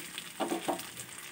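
Cumin powder hits hot oil for a rui fish curry, giving a faint sizzle with a couple of soft stirring scrapes near the middle, quiet and close.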